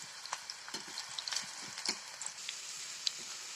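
Chopped onions frying in hot oil in a pan for a local chicken dry fry, a soft continuous sizzle broken by scattered small pops and crackles, fairly quiet and close, with no talking.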